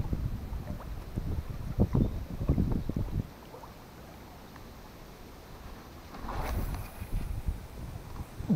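Gusts of wind buffet the microphone in rumbling bursts while fishing outdoors, easing to a quieter steady outdoor hush before picking up again.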